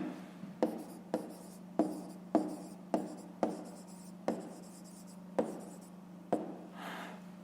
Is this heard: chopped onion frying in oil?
no